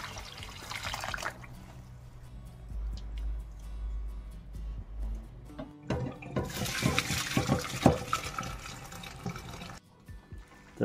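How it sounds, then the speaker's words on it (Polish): Cold water is poured over cabbage, with a brief gush, a low hum, then several seconds of splashing and sloshing close by. "Jak się zalewa wodą zimną."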